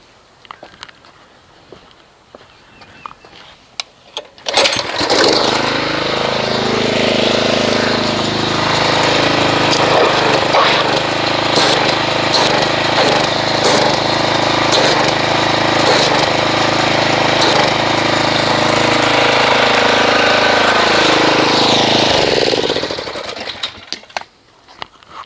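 A pressure washer starts up, runs loud and steady for about twenty seconds while agitating a car shampoo foam mixture of Gyeon Bath shampoo and Mastersons Mystic Sno, then shuts off.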